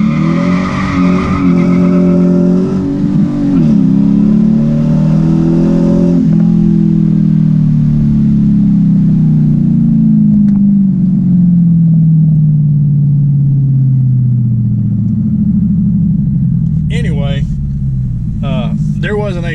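A Dodge Challenger RT accelerates hard for a 0 to 60 run on a road in Mexico, its loud engine note climbing through the gears over about fifteen seconds before easing off, with brief sharp sounds near the end.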